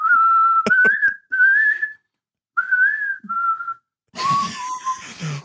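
A woman whistles a song melody alone, close and clear, in several sustained phrases with slight vibrato and short pauses, ending with a breathier passage.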